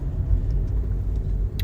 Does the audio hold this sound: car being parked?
yes